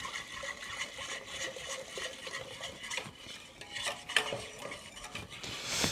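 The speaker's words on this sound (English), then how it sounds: "You can see also as I'm whisking" A whisk stirs cold milk into a roux for béchamel sauce in a pot, giving a steady, close scraping and swishing rhythm with light metallic clinks against the sides and bottom, heard alone without talk.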